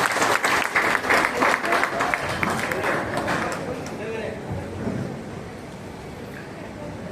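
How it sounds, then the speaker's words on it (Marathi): An audience at a community gathering for people with disabilities in Vasai claps loudly in a thick burst of applause that gradually thins and fades over several seconds. "जरा टाळ्या वाजवा ना, कंजूसी कशाला करतात"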